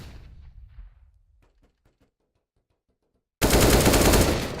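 Counter-Strike gunfire on the Cache or Cobblestone map: faint scattered shots early on, then a sudden loud, dense burst of automatic fire that runs without a break to the end.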